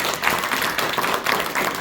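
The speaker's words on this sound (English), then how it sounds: "she will love hearing your applause for her" A meeting audience claps together in a brief burst of dense, even applause, moderately loud and without speech.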